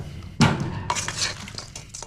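Chicken wings tossed with peanut butter and jelly sauce in a container give a sudden loud clatter, then a few more rattling, sloshing knocks of the shaken container, close by with no talk.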